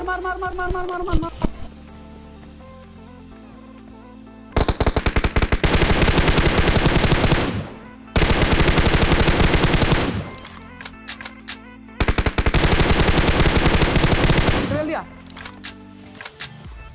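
Three long bursts of rapid automatic gunfire from a mobile shooter video game crackle loudly, separated by quieter gaps with faint game ambience and brief effects.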